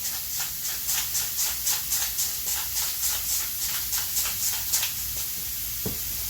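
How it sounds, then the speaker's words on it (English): Onion sautéing in a pan for oxtail ragù gives a soft, steady sizzle and hiss, broken by regular scraping pulses of stirring. "we're going to saute this just until that onion becomes nice and soft"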